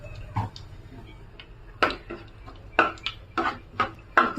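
Mustard seeds and cumin crackle in hot oil in a pan for an Andhra-style drumstick pakodi pulusu, with about half a dozen sharp, irregular pops close by and a low sizzle between them.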